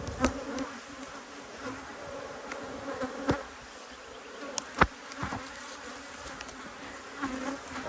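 Honey bees in a hive hum softly and steadily, with individual insects buzzing close past now and then amid light clicks and handling noises.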